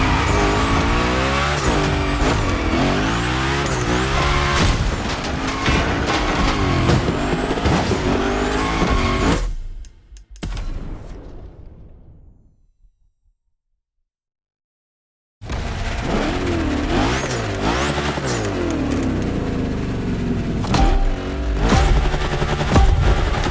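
A Hoonigan gymkhana car in The Crew Motorfest racing game revs hard and slides, its engine roaring and tires squealing loudly. The sound cuts to near silence for several seconds, then the revving and skidding resume.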